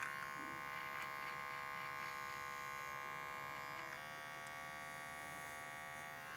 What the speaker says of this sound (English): I love the Andis foilers.